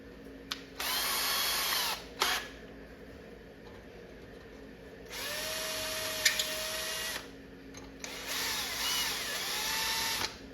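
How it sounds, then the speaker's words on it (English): An electric drill fitted with a 3/32 bit drills out a lock on an arcade machine's coin door, running in three close, whining bursts of a few seconds each, separated by quiet pauses. "We're going to use a 3 32nd drill bit."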